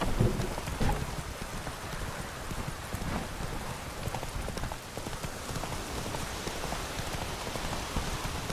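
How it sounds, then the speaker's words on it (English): Thunder from a lightning strike in The Witcher 3: Wild Hunt, a steady roar of heavy rain and rolling rumble that continues loud and unbroken throughout, with no voices. "Lightning strike"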